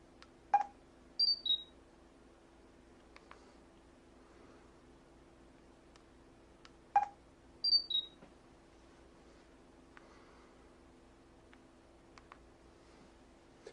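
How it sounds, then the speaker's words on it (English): Budget Pocket smartphone's camera shutter sound, heard twice about six seconds apart, each a quick two-tone electronic chirp with a short click before it, clear over a quiet steady hum. "Kind of a unique shutter sound there, so you get a preview of their picture afterwards."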